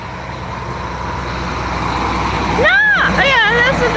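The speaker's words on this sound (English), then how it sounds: "Yeah, that's a dump truck hauling dirt." A loaded dump truck hauling dirt rumbles past nearby, a steady low engine roar beneath a voice talking throughout, heard from a wooded roadside.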